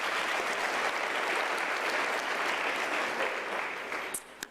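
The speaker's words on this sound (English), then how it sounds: "let's give her a round of applause" Loud, sustained applause from a graduation ceremony audience, dense clapping that holds steady and then tapers off near the end with a few last scattered claps.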